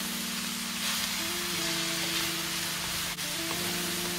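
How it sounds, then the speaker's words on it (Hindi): Capsicum and carrot stir-fry in a hot pan for veg chowmein, a steady close sizzle and hiss with a faint background hum, continuous throughout with no talk. "करीब 1 मिनट तक हम इसको अच्छे से फ्राई होने देंगे"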